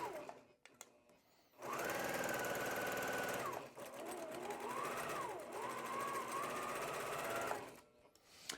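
A sewing machine chain piecing fabric half square triangles, running in a steady fast stitching whir that starts, changes pitch midway and stops, with quieter handling sounds before and after.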